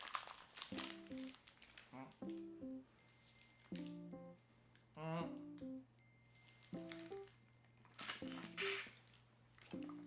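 A plastic drink pouch from an MRE (Chicken Burrito Bowl, Menu 16) crinkles and squishes in repeated bursts, close to the mic, alongside voiced sounds throughout.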